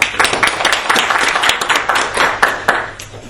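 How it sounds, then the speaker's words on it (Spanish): A seminar audience gives a round of applause after a talk on photo-identification of gray whales, a dense patter of many hands clapping close by that thins out near the end. "un fuerte aplauso"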